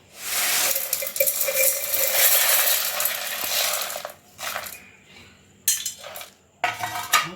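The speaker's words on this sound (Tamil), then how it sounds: "இதை நான் மிக்ஸி ஜாரில் போடுறேங்க." Dry roasted rasam powder spices rattle and clink into a metal mixer jar in a long pour, followed by a few shorter clattering bursts with quiet gaps between.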